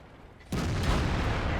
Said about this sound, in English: Ah, lucky ricochet.